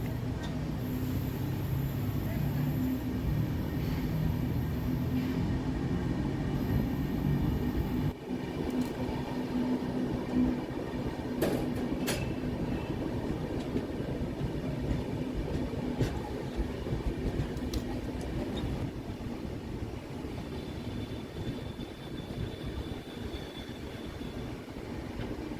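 The Barbil Jan Shatabdi Express runs on the Howrah–Tatanagar line, heard from on board as a steady rumbling roll of wheels on rails with occasional clanks and squeaks and faint voices at times.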